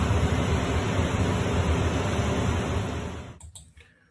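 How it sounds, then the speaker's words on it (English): A loud, steady broadband whoosh like rotor downwash, continuous and near, fading and cutting off with a few clatters at the end. "if I'm hearing helicopter rotor wash"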